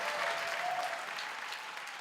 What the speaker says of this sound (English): One more time, a round of applause for our winners, the Okanagan Forest Task Force.